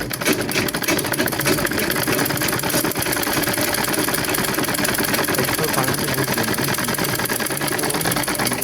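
An electric sewing machine runs steadily, stitching the joined ends of a piece of fabric with a continuous fast mechanical whir and needle rattle, close and loud throughout with no pauses.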